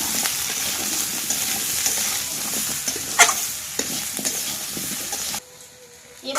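Cut drumstick and potato pieces sizzle in a pan of cooked-down spices, with green chillies in the mix. Loud, close frying hiss carries clattering stirs, then drops abruptly to a much quieter sizzle near the end.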